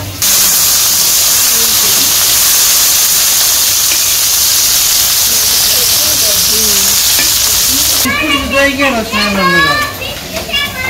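Nura fish caught with a rod fry in a pan in a village kitchen, a loud, close, continuous sizzle that drops away near the end as children's voices and chatter take over.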